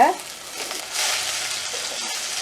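Oil sizzles and crackles steadily in a pan in a Jaffna village kitchen, a close, continuous frying hiss after a brief clatter at the start.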